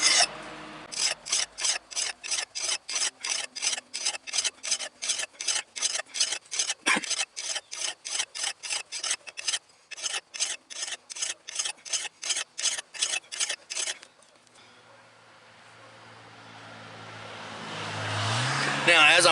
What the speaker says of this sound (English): Now, as I'm filing, I'm starting to find a lot of nicks in the blade